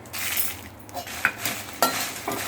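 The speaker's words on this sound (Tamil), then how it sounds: "இது கூட கொஞ்சோண்டு கல் உப்பு போட்டு வறுத்துட்டீங்க அப்படின்னா ஈஸியாக வருபடும்" Red chillies dry roasting with rock salt in a pan, stirred in a steady, close scraping and rattling motion, with a few sharper clinks of utensil against the pan.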